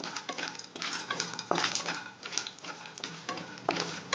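Peanuts being stirred into a home-cooked dinner dish in a pan, giving a quiet, irregular series of scraping and clinking strokes with soft rattling between them, close and without talk.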